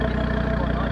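A 500bhp Audi ABT RS3 idles nearby, giving a deep, steady, low rumble for under a second.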